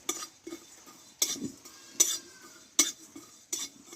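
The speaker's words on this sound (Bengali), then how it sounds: "এই কড়াইয়ে আমি এক চামচ মতো গোটা জিরে নিয়েছি জিরিটাকে ভেজে নেব" Whole cumin seeds being lightly fried in a wok over a low flame, heard as a soft sizzle broken by regular scraping and metallic clinks of a spoon stirring against the pan.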